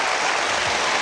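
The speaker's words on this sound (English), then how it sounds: "They're standing up all around the building to applaud that performance by Jayne Torvill and Christopher Dean" An arena audience at a world figure skating championship applauds a free dance performance, a brief, dense wash of clapping heard up close.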